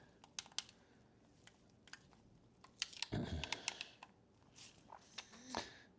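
Repaired game controllers give quick, crisp button clicks in irregular bursts, faint and close, with a brief louder rustle of handling midway.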